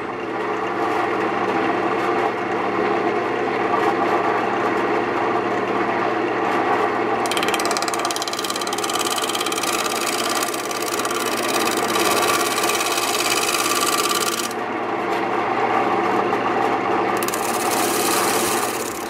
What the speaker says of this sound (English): Now I'm going to take my scraper again just to remove the excess glue from there.